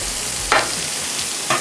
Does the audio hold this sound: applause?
no